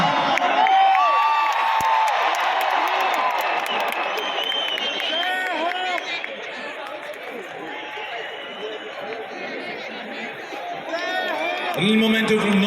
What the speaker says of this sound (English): let's have a huge shout out and cheer for Mr.